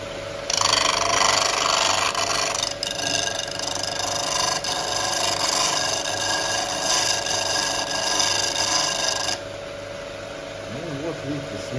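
A homemade belt grinder runs with a steady, harsh grinding whine continuously for several seconds, loud and close, then cuts off, leaving a lower motor hum.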